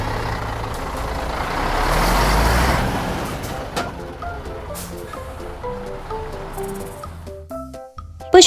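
A mini truck loaded with sand rumbles loudly, swelling as it passes and then easing into a lower idle with scattered clanks, ending in a brief sharp sound.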